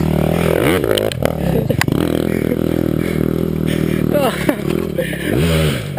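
Dirt bike engine climbing a hill at a Wendy's hill climb, droning loud and close with rising and falling revs, some clatter, and excited talk over the top.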